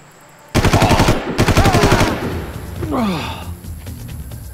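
Machine gun fire from an MG nest in Far Cry, two sharp bursts of rapid close shots, the first longer, followed by a quieter whooshing sound and faint background ambience.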